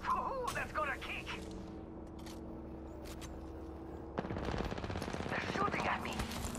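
Rapid bursts of automatic gunfire in an Apex Legends ranked match, loud and close, with fainter shots early on and a dense volley in the last couple of seconds, mixed with game sounds and voices.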